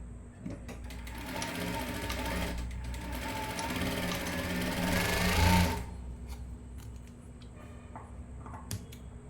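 Sewing machine stitching a bias cross strip of fabric onto a neckline piece, running steadily and fairly loud for about six seconds, then stopping and leaving faint handling clicks.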